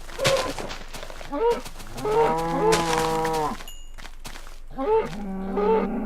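Cows in the video game Minecraft give several loud, drawn-out moos close by, in separate bursts with short clicks and thumps of gameplay between them.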